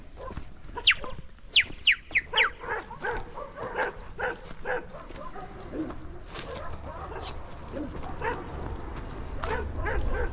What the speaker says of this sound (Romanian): Mă, ne arăți un pic câini acum,